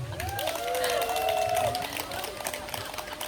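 Applause and crowd noise from holiday-goers at an outdoor busking encore performance in a valley before a temple, steady broadband clapping with a voice and tonal sounds layered over it.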